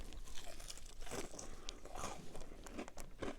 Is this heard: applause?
no